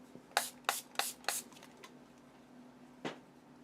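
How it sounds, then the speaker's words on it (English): Four quick hissing sprays of water from a spray bottle onto an acrylic paint palette in steady rhythm, then a pause and one more spritz, close and fairly quiet. "I have this to spray water in my palette"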